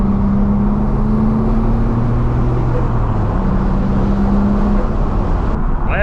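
A 1989–94 Nissan Skyline GT-R R32 with an RB26 engine and HKS intercooler hard pipes drones loudly and steadily during a pull, its engine tone climbing and then dropping mid-run, heard from inside the car with no talking.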